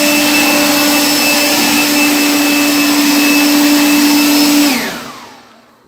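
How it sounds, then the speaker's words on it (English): A Toro electric blower runs with a loud, steady whining roar and a high tonal hum for several seconds, then switches off and winds down quickly to silence. "The electric blower can come in handy even for some things you might not have thought of"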